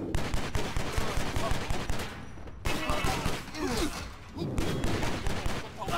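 Rapid bursts of gunfire in the Stranglehold shootout come close and loud, dense automatic volleys stacked in quick succession with short gaps between bursts, overlaid by talking voices.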